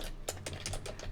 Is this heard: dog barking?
no